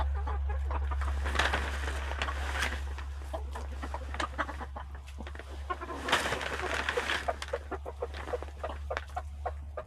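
Several chickens cluck and murmur softly nearby, with occasional sharper calls, over a steady low hum.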